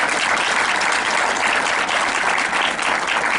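An audience at an education congress claps steadily and densely, a sustained wash of applause with no pauses.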